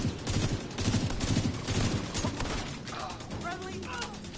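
Sniper and rifle fire in The Division 2 crackles in rapid, dense volleys for the first half, then thins into scattered, fainter shots and mechanical clatter while a voice talks over the action.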